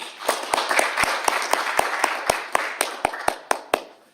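An audience claps to welcome a speaker at a gathering, the claps sharp and evenly spaced in a steady rhythm over a low murmur of crowd noise.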